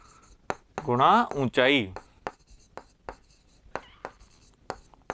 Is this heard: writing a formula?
yes